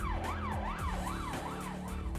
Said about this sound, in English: Step 6. Ambulance arrives